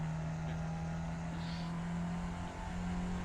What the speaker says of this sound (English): You've never heard a Camry rev this hard.